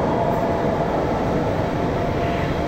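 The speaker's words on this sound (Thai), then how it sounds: "the train is about to depart" Steady low rumble and hiss of a train departing from the underground Zurich Airport railway station in Switzerland, a continuous dense roar that fills the space with no voices.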